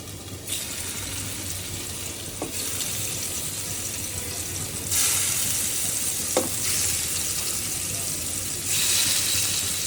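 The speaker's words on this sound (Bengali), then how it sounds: "এখানে এখন মাছ ভেজে নেব মাছ দিয়ে দিচ্ছি একে একে করে" Fish frying in a pan, one piece after another, gives a steady sizzle that swells louder at moments, with a couple of brief clinks and a low background hum.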